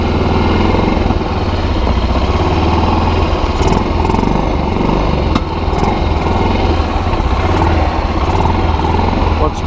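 A Kazuma Jaguar 500 4x4 ATV engine runs steadily at a cold-blooded idle, a loud, continuous low rumble with a faint mechanical chatter, filling the scene close by from start to finish.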